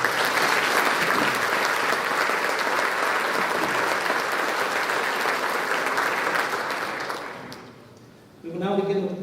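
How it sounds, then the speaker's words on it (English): Sustained applause from a large audience at a high school class night fills the room evenly for about seven seconds, then fades out as a voice begins speaking at the end. "Let's give them a round of applause."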